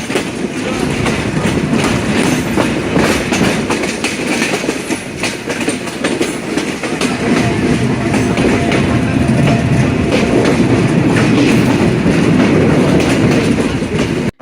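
Rupsha Express pulling out of Chuadanga railway station, a loud, steady rumble of wagons with continuous clickety-clack of wheels on rails throughout, heard close from on board.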